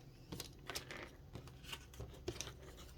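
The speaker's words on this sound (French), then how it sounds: "Je vais le couper un peu sur le côté." Scissors snipping through thick card while trimming the side of a handmade Christmas pop-up frame card, giving several quiet, close, irregular clipping snips with faint papery rustles between them.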